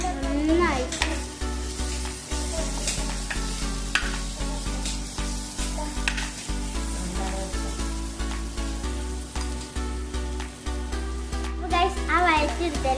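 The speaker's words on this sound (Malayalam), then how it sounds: "ആ വഴറ്റിയെടുത്തതിലേക്ക് നമ്മൾ കുറച്ചുകൂടി ഉള്ളി ഇട്ട് കൊടുത്തിട്ടുണ്ട്. നന്നായിട്ടൊന്ന് ഇളക്കി കൊടുക്കാം" Sliced onions sizzle in hot oil for a Kerala-style egg roast, with a steady close frying hiss and scraping stirs throughout, and soft music playing underneath.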